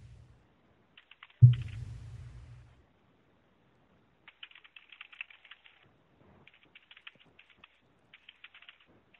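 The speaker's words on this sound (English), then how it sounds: "Are you typing something? I am." Keys are tapped on a computer keyboard in scattered quick bursts, faint and close, after one louder thump near the start.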